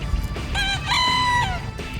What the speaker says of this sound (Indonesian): seperti itulah suara ayam bekisar